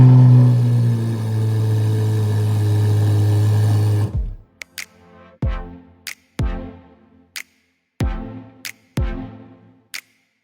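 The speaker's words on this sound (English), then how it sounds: "Check this out, listen to this cold start" A Corvette Z06 engine cold-starts loud and close: a steady high idle roar runs for about four seconds, then cuts to a series of sharp, separate revs and pops with short silences between them.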